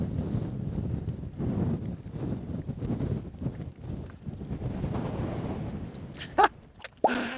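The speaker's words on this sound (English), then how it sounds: "the sun's just come out, but it is freezing and it's windy." Strong wind buffets the microphone on an exposed fell summit over 800 metres up in the Lake District, a steady roaring gust that rises and falls throughout, with a couple of sharper knocks near the end.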